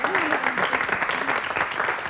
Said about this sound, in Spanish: se pueden aplaudir ustedes mismos